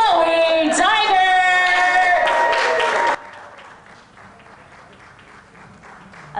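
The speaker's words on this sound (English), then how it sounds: "A big round of applause for her and for the other athletes" Crowd applause and cheering at a US professional cycling time trial championship, loud and steady for about three seconds before it drops away to low background murmur.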